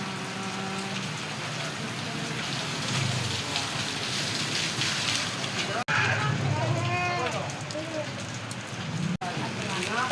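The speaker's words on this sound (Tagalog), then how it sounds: "Ulan na naman." Steady rain falls as a dense, continuous hiss throughout, with people talking faintly beneath it in the latter half.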